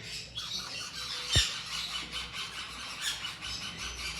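A caged Swainson's lorikeet gives harsh, high squawks that repeat in an uneven pattern and sound fairly close, over a low background hum.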